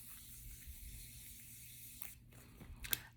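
Makeup setting spray is misted onto a face in a quiet room, a faint, soft hiss lasting about two seconds, followed by a small click near the end.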